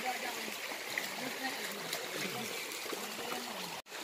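A shallow river in North Aceh, Indonesia, flows over its riverbed with a continuous soft trickling rush. Faint voices sit beneath it, and there is a brief dropout near the end.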